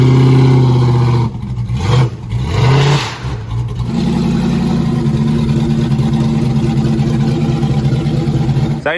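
A car fitted with a 98mm turbo revs loudly in sharp bursts while launching into a wheelie, then settles into a sustained, close engine roar with no voices.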